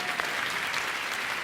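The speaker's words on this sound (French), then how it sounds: "Il est là-bas, on peut l'applaudir." An audience applauds at the Olympia concert hall, a dense, steady wash of clapping from a large crowd that continues evenly throughout the short stretch.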